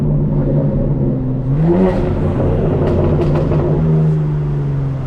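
Loud, close exhaust note of a 2024 BMW M4 Competition xDrive on a night drive, humming steadily, then swelling as the engine revs up before settling back to a cruise.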